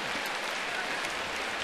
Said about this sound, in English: Everybody comes up applauding and smiling.